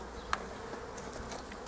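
Honey bees buzz steadily at a beehive's flight entrance, a dense close insect drone that holds throughout with one brief sharp tick near the start and no talking.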